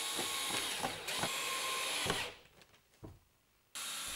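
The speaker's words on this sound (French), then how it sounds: "Percez des avant-trous du diamètre de vos vis, ici 4 mm de diamètre." A drill bores 4 mm pilot holes for screws into wooden battens, whirring loudly and steadily before cutting out, then a quiet pause and the drill starts again near the end.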